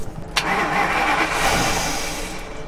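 An RV engine cranks over with a sharp starting burst, then settles into a steady mid-pitched running rumble, close and fairly loud, with no voices.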